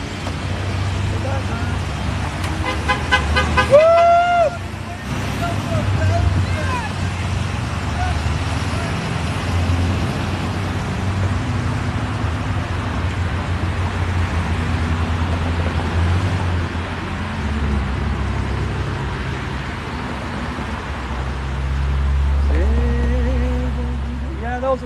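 A school bus drives past on a city street in Cleveland and honks near the start, then traffic rumbles on with voices talking over the road noise.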